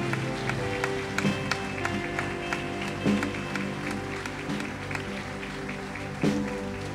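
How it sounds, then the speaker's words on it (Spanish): Church congregation applauding the Lord after a prayer, a steady mass of clapping with some louder bursts, sustained over musical keys playing underneath throughout. "Iglesia, dale un fuerte aplauso al Señor."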